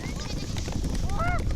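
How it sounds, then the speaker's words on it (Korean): Bleating rings out from a goat herd in commotion as a yak pushes in among them during a nomads' migration in the Mongolian taiga. Several overlapping calls rise over rustling and movement noise. "염소무리에서 소동이 발생했다."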